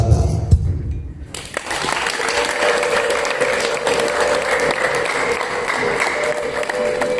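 Wedding guests at a celebration in Rusizi burst into sustained applause after a brief quieter opening moment, the clapping dense and steady, with festive crowd noise and a sustained tonal sound running beneath it.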